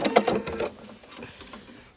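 A sewing machine reverse-stitching on a quilt: a quick, loud burst of rapid needle clatter at the start, then a softer, intermittent mechanical whirr that fades out.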